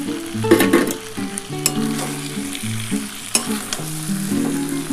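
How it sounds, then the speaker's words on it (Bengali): Green peas sizzling and frying in a pan (kadai) of cauliflower curry, loud and close, with repeated scraping stir strokes and clattering of the spoon against the pan, no talking. "বন্ধুরা দেখো, এর মধ্যে আমি এবার কড়াইশুঁটিটা দিয়ে দিলাম।"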